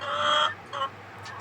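Farm chickens and a rooster cluck close by in two short bursts with a brief pause between, followed by softer bird calls, with no voices.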